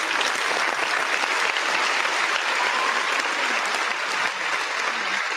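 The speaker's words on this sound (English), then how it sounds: "Let's give the Breezy's Bunch a round of applause." Steady, dense applause from a morning-show studio audience for the Breezy's Bunch, loud and even throughout with no talk over it.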